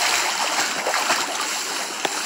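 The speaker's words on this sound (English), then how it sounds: "God damn, it splashed everybody." Water splashes and churns steadily in an outdoor swimming pool, a dense broad wash of splashing, fairly loud and close, with one brief sharper splash near the end and no talk.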